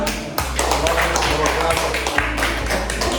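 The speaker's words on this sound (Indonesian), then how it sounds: "Tepuk tangan." Classroom applause during a student teaching-practice lesson: a steady patter of claps runs throughout, over a low hum, with voices talking underneath.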